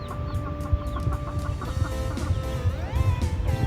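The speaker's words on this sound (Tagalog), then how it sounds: "pinakawalan na natin yung mga sisiw natin ayun sila" Rhode Island chickens and newly released chicks cluck and peep close by in a farmyard, a busy overlapping chorus of short calls with steady chirping throughout.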